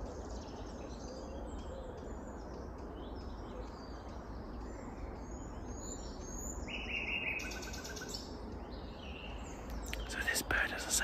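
A nightingale sings outdoors in short bursts of chirps, whistles and trills from a moderate distance over a soft, broad background hush, with a quiet whispered voice underneath.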